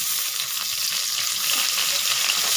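Tomato and ginger paste with slit green chilies fry in a pan while being stirred, giving a loud, steady hiss and sizzle that runs unbroken throughout.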